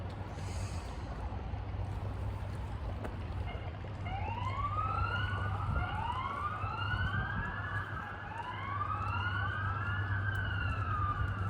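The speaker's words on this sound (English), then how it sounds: "Pay no attention to the sirens." Wailing sirens rise and fall repeatedly in the distance, overlapping one another above a constant low engine drone.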